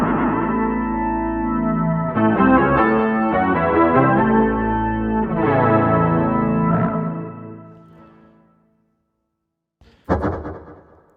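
A Yonac RoxSyn guitar synth plays sustained, distorted chords swirling with chorus and flanger, loud and shifting for several seconds before fading to silence, then one short bright stab sounds alone.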